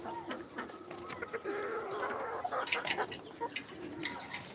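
Two fancy chickens cluck in a backyard poultry coop among other birds, with short clucks and calls scattered over a steady background at moderate distance, a few sharper calls rising near the end.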